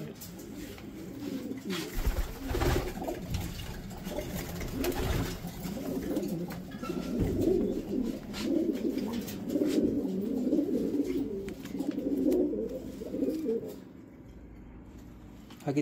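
Racing pigeons coo steadily in a loft. Soft, repeated low calls run through most of the stretch, with occasional fluttering and knocks and faint background voices.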